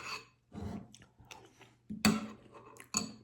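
Food being chewed during a meal after a 72-hour fast, with close, moist bursts of mastication and a few sharper crunchy bites spread over a few seconds, no talking.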